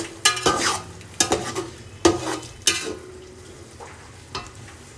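Tomato, chili and ginger stirred into vegetable pulao in a pan: a few loud spoon scrapes and clatters against the pan at steady intervals, over a low background hiss.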